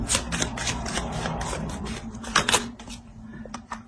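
Tarot cards are handled during a reading, with a run of crisp close-up snaps, slides and taps of card stock, irregular and fairly quiet, tapering off near the end.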